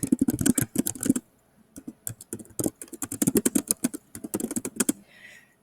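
Rapid typing on a computer keyboard, with close, crisp key clicks in dense bursts and short pauses between phrases, ending in a brief quiet moment.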